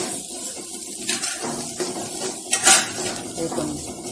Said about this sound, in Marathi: हे पण कांद्यामध्ये टाकून परतून घेतलं थोडंसं.